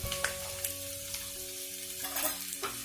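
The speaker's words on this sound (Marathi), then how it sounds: "बारीक गॅसवरती परतून घ्यायचे।" Pistachio slivers and dry dates roast in a pan over a low flame, giving a steady soft sizzle and crackle with occasional scraping stirs, close and alone.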